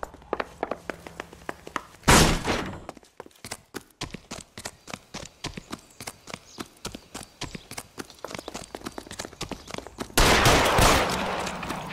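Gunfire in LA Noire: sharp, rapid shots crack out in a long irregular volley with thumps between them, framed by two louder bursts of heavy firing at the start and end.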